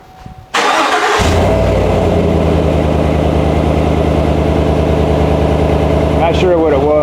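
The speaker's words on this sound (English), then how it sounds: "let's get the truck started and see how it sounds, and hopefully it makes a deep rumble sound" A Chevy Silverado pickup fitted with a FlowMaster 40 Series exhaust cranks and fires after a quiet moment, then settles into a loud, steady, deep idle rumble up close that lasts to the end.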